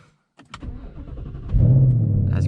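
A Ford Mustang GT engine cranks with a few rough bursts, then fires up and settles into a loud, steady idle close by, indoors in a garage with the car wet from a cool morning.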